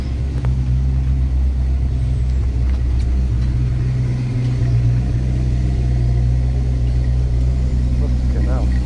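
A Zenvo hypercar with a 1200 hp engine rumbles steadily with a deep, continuous low drone, loud and close throughout, while voices talk over it.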